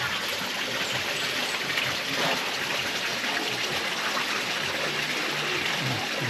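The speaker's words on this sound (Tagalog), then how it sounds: "may maliit dito na agusan ng tubig." A small channel of flowing water running alongside a construction site, a steady close rushing and trickling that continues unbroken without any voices.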